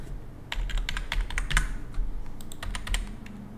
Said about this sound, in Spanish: Y acá voy a poner una contraseña.